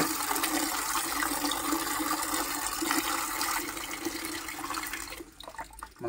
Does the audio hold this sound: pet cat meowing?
no